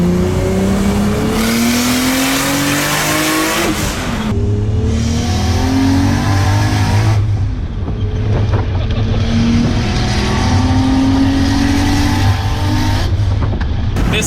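A Lexus SC430 fitted with a 2JZ engine running 40 psi of boost, revving loud and close and pulling hard through several rising gear sweeps, with brief drops between shifts and a continuous roaring exhaust note.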